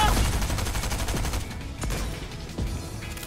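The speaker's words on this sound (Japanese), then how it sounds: "SMG とブンブンスナイパーのコンビネーション技だよ" SMG and sniper rifle gunfire from a Fortnite match crack out as a rapid burst, followed by a few sharp, separated shots, close and loud, with a voice faintly behind.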